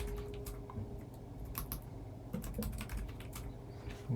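Password being typed on a computer keyboard during first-time setup of a QNAP TVS-h874T Thunderbolt 4 NAS: a steady run of quick, close key clicks over a low hum, with no talking.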